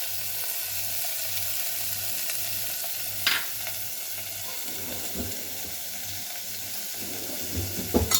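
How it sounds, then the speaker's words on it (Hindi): Chopped onion, capsicum and tomatoes sautéing in a pan, giving a steady soft sizzle with occasional stirring scrapes and a low hum underneath, no voices. "थोड़ा सा इसको हिला देंगे। थोड़ा सा भूनना पड़ेगा ताकि हल्का कच्चापन निकल जाए।"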